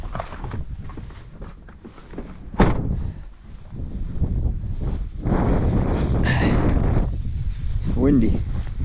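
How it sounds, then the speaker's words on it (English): Outdoor wind buffets the microphone in low rumbling gusts that swell and fade, with a sharp knock and some handling noise, while a person speaks over it. "Windy."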